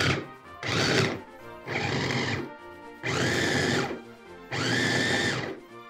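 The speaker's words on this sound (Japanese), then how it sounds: "それではミキサーで混ぜていきます。" A kitchen blender whirs through deboned fish in four loud bursts of about a second each, separated by short pauses, with a rising whine in each pulse.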